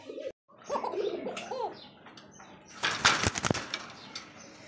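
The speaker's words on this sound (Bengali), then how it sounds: "চমৎকার এক জোড়া একদমই ককা কবুতর" A pair of Kokka pigeons coos with a few low rolling calls up close, followed by a loud flurry of flapping wings.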